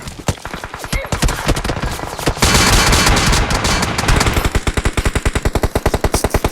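Rapid gunfire from a shooting video game, loud and sustained, with dense bursts running into a steady rattling automatic stream, no talking.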